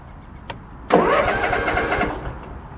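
A Cub Cadet Zforce SX 54 zero-turn mower engine cranks after a faint click, catches and settles into a steady, loud running drone for about a second before cutting back.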